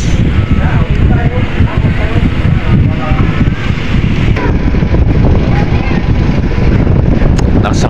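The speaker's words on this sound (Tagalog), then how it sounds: "Lakas ng hangin." Strong wind buffets the microphone on the deck of a passenger ship bound for Marinduque, a loud, constant roar with a heavy low rumble throughout.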